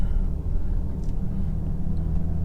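A tuned Audi Q7 TDI diesel SUV with a Stage II remap cruises in normal drive mode, heard from inside as a steady low engine and road rumble that stays even and moderately loud with no speech.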